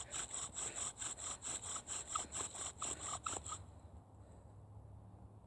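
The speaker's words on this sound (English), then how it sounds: "there needs to be enough friction between the spindle and the fireboard in order to produce the coal" A bow drill spindle rubs hard against a wooden fireboard in fast, even back-and-forth strokes, a raspy squeaking friction sound heard close, then the strokes stop and only a quiet background hiss is left.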